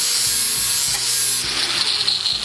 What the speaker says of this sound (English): Why are you sharpening it on there?